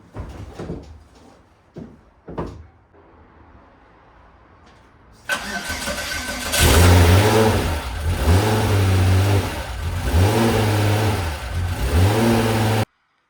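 A few clicks and clunks precede a VW VR6 engine swapped into a right-hand-drive Mk1 cranking and catching, then idling loudly with several rising and falling revs close by.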